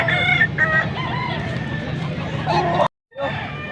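A young rooster, a stag, crows and clucks amid a busy poultry market, its calls rising over a dense crowd murmur, before the sound cuts to brief silence and resumes.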